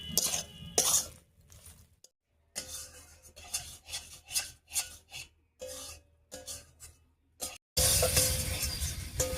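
Soybeans with spices and nuts stirred in a kadai, with repeated scraping and rubbing strokes of a spoon against the metal pan in an uneven rhythm, close and clear, with a louder sizzling rasp near the end.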